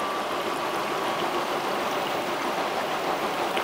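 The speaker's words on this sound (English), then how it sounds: "Water is coming through on the right-hand side." Water rushes steadily through the inlet valve into a Beko WTK washing machine, a constant hissing, splashing flow, close and fairly loud, with no talk.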